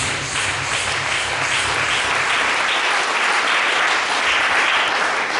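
A church congregation applauds together during a French-language sermon, a steady, loud wash of clapping that runs unbroken for several seconds with no voices standing out.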